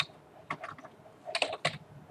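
Short bursts of keystrokes on a computer keyboard, a few quick clustered clicks then a pause and another brisk run, close and clear with no voices.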